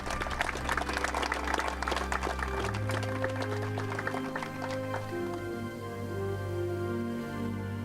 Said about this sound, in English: We'd like to have a round of applause for all of our recipients today and our veterans and their families.